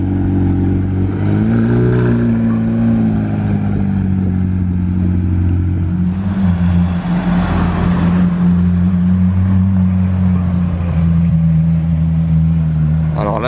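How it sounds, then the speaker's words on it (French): McLaren Senna supercar passing close behind a parked McLaren Elva in Monaco, a loud droning engine that surges and swells midway, with a person talking over it throughout. "Une McLaren Senna qui passe juste derrière la McLaren Elva."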